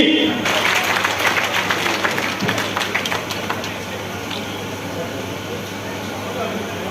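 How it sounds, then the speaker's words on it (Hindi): A large crowd at an election rally in Poonch applauds loudly and continuously, with a dense, steady roar of clapping that eases slightly toward the end. "जोरदार तालियों से आदरणीय राजनाथ सिंह का स्वागत करें।"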